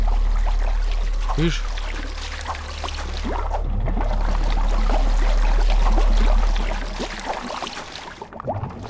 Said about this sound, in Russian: Кости плещутся в этой раковине